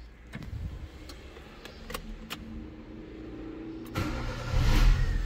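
Hyundai Accent engine cranking and catching, then running steadily with a low idle rumble that swells louder near the end, heard close with no talk.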